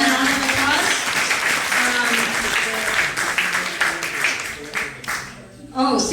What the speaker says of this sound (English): So I want to please give them a round of applause.